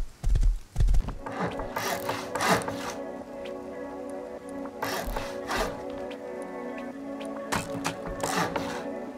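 A horse in Rust, heard as loud hoof clops near the start, then a run of steady clip-clopping with soft creaks and rustles throughout, close up.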